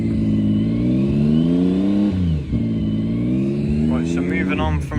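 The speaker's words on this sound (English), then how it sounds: "Right, we got the Ferrari F80." A Ferrari F80 at the Goodwood Festival of Speed 2025 gives a sustained, close engine note that swells and dips as it revs, with a brief lull midway and a voice talking over it.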